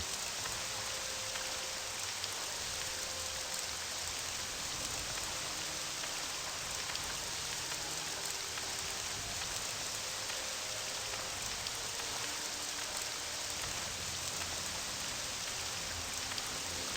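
Steady rainfall in the video game Abecean Shores, an even, continuous patter of drops on surfaces that holds at an unchanging level for the whole stretch with no voices.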